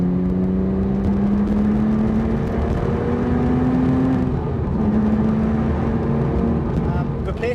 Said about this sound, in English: Right now I've got the Carnival exhaust on my car